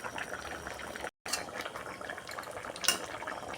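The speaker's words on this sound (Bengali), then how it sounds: "এবার আমি বড়াগুলো দিয়ে দেবো" Lentil fritters dropped into a simmering prawn curry, a low bubbling simmer with faint clinks of a utensil and a brief cut to silence partway through, one sharper clatter later on.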